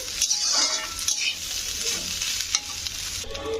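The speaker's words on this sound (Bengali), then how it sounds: "তো ভাতটা দিয়ে এবারে একটু নাড়াচাড়া করতে হবে।" Cooked rice being stirred in a pan for egg fried rice gives close metal scrapes and clinks of a spatula in scattered strokes over a soft, steady sizzle.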